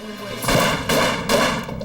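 Three dramatized .22 caliber gunshots in a re-enactment of a shooting, each a loud, sharp blast with a short decay, spaced about 0.4 seconds apart and close by, with no speech over them.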